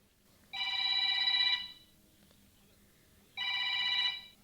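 A telephone rings indoors in a home during a Hindi drama scene, two long electronic ring bursts separated by a pause, clear and fairly close with no talking.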